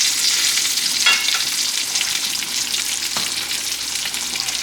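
Homemade fries crackle and sizzle in hot oil, a steady close-up hiss with occasional bubbling pops.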